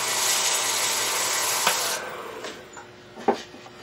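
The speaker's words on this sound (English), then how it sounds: "I'll take a piece of sandpaper and go ahead and hold that on there" Sandpaper pressed against a spinning punky wood blank on a lathe gives a dense, steady rasping hiss for about two seconds, then it stops, leaving faint clicks and a sharper knock near the end.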